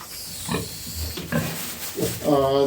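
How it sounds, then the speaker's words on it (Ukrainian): A sow in the first days after farrowing grunts in a few short, low bursts, close by, with indoor barn ambience between them. "свиноматка після опоросу"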